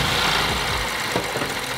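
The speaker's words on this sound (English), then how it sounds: "the car has started up just like that with the Jump Surge 2000" A BMW M135 engine, just jump-started with a booster pack, idles close up as a loud, rough, steady rumble with slight fluctuations and no voices.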